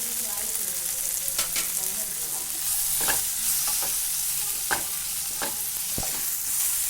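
Masala sautéing with chili, turmeric and coriander powder for paneer mutter masala, a loud continuous sizzle broken by repeated scraping stirs of a spoon against the pan.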